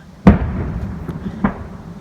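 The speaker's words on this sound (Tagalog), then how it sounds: "Fireworks." Canada Day fireworks over Taber, Alberta burst twice, a loud near boom followed by a softer second report, against a low rumbling background.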